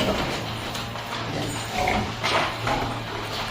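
A pregnant sow grunts low and steady while nursing piglets in a pig barn, a continuous murmur of close grunts with occasional louder snorts rising over the hum of the pen.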